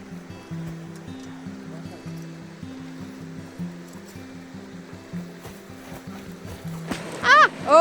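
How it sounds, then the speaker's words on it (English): River water flows steadily past a thermal pond in cold weather, a low continuous rush under brief talk, with a louder splashing or voice burst near the end. "Look at that river. It's not frozen at all."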